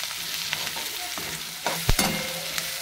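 Onions and turmeric frying in oil in a pan for poha, a close steady sizzle with a few spatula scrapes and clinks against the pan.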